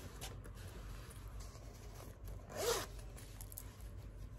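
A single quick pull of a gold zipper on a canvas bag, short and close, rising briefly above a low, steady background hum.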